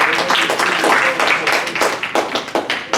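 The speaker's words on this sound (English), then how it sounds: "Round of applause, Pablo." Applause from a student leadership workshop audience for a volunteer named Pablo, a short burst of loud, close clapping from a group, with some voices mixed in underneath.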